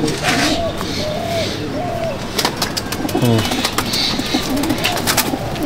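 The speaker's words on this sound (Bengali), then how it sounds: "অসাধারণ পায়রা।" Kalduma Madrasi pigeons cooing close by, several soft rolling coos repeating through the clip over background noise and a few sharp clicks.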